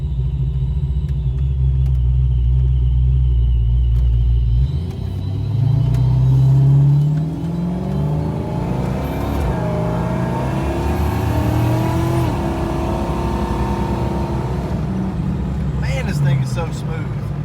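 Ford Foxbody with an automatic transmission and an N51hr cam pulls away under light throttle, a deep, steady engine rumble that rises gradually in pitch as it accelerates, heard from inside the car.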